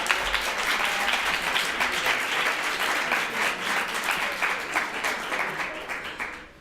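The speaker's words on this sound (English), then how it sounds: "So please, a big round of applause" Warm, sustained clapping from a conference audience honoring a speaker's wife, a thick wash of many hands that holds steady, then thins and fades away at the close.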